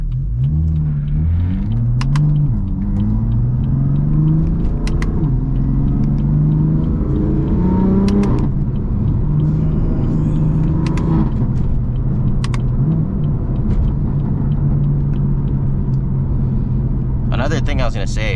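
A BMW M car with magnetic paddle shifters downshifts as its engine note climbs and falls through several blips, a steady loud rumble heard from inside the cabin, with keys jangling and a voice talking over it.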